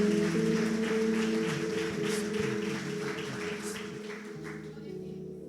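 Congregation applauding during a church service, a steady wash of clapping that holds for several seconds beneath sustained musical tones and a background voice.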